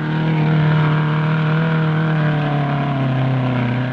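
A trials car with low-pressure tyres in the 1965 RAC Trials Championship in Britain, its engine holding a loud, close, steady drone with a slight rise in pitch, with no talking.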